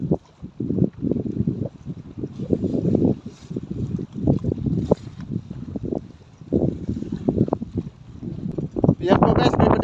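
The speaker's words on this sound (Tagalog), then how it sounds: "Ang weather po namin dito ay medyo maalon po." Wind and choppy sea around a small fishing boat at sea, a steady gusty rush with water slaps swelling and fading throughout, with voices talking over it.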